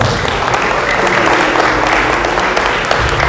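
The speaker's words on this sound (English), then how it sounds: "Let's have a big round of applause" Big round of applause from a gathering at a Sikh community event honoring children after a skit, dense steady clapping that stays loud and continuous throughout.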